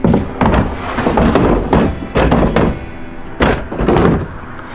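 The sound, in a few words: big drawer being pushed into deck system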